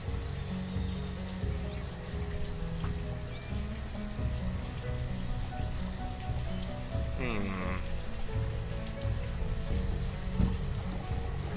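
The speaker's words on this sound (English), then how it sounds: "These guys are getting rained on like crazy." Steady rain patters across the village in the city-building strategy game Banished, a continuous even hiss with soft musical tones underneath and a brief chirp near the end.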